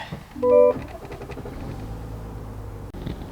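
A 2025 Chevy Suburban with the Duramax diesel starting: a short loud crank burst, then a steady low idle rumble that continues to the end.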